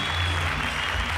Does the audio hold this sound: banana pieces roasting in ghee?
no